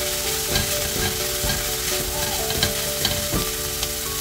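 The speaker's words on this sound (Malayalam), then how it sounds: "അത് ഇതിൽ ചേർത്ത് കൊടുത്തിട്ട് നന്നായിട്ട് മിക്സ് ചെയ്തെടുക്കാം" Cabbage, chilli, onion and grated coconut mix sizzle in a hot pan while a spoon stirs them. Repeated scraping strokes come in a steady rhythm over a constant frying hiss, close up.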